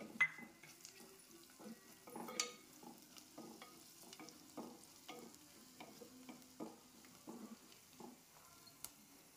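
Onions and turmeric get stirred in a frying pan for mutton curry. Quiet, rhythmic spatula scrapes and clinks rise over a soft sizzle.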